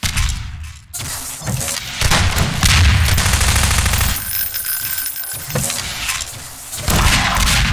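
Loud, close gunfire fills a Half-Life 2 Deathmatch match, with rapid bursts of shots and thuds separated by short, quieter gaps.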